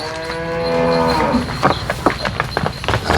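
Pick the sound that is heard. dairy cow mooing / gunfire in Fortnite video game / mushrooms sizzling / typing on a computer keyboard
dairy cow mooing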